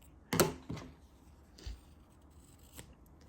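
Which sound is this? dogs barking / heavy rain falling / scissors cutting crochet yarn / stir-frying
scissors cutting crochet yarn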